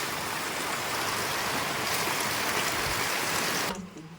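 Rainwater pours and splashes steadily into a collection container at a village home, a close, dense rushing hiss that holds constant before cutting off abruptly near the end, with no voices.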